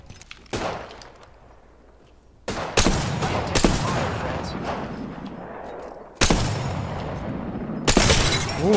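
Gunfire in the shooter game Apex Legends: sharp bursts of rapid shots with cracks and shattering impacts, loud and close, separated by short pauses.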